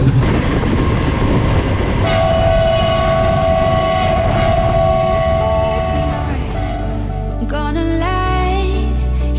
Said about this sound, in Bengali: যেখান থেকে মিটার গেজ ট্রেন এখনও ছাড়ে